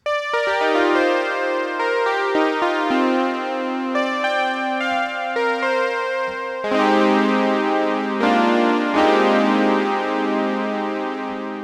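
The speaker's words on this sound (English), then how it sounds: "It's a synth keys-like sound that I quickly threw together in OBX." Bright OB-X synth keys play a series of sustained chords, each new chord striking clearly over the last, forming a loud, continuous electronic passage without talking.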